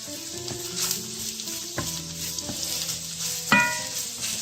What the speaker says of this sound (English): you want to saute these down. Definitely want to render them down and caramelize it